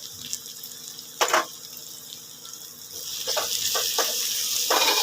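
Tomato sautéing with kokum, red masala and turmeric gives a steady, moderately loud sizzle in the pan, with a few clinks of a utensil, and no voices.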